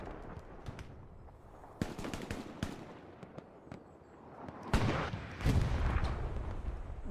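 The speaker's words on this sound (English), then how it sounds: "Akira firing rocket towards Rage." Rocket fire and gunfire in the Hell Let Loose war game, with sharp bursts and booming blasts scattered over a steady rumble, growing louder and denser toward the end, with no talk.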